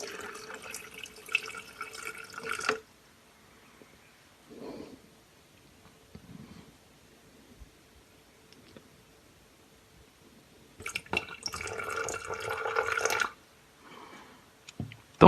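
Water poured into a homemade plastic rain gauge up to the zero mark, two separate splashing bursts of filling with a quiet stretch of small drips and handling noises between them.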